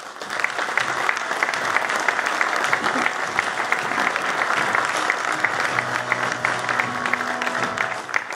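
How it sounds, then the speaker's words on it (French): An audience claps steadily throughout, dense sustained applause from a sizable crowd with no pauses. "Je vous demande d'accueillir sous vos applaudissements, s'il vous plaît"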